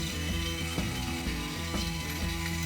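A budget RS600 connected robot vacuum pressing against an obstacle, giving off a steady ratcheting, grinding mechanical whir with faint periodic clicks as it forces its bumper forward, close and continuous without any voice.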